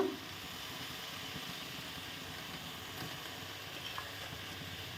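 Jute leaves (pat shak) frying with salt and turmeric in a pan give a steady, soft sizzle throughout, with a few faint stirring scrapes and no talking.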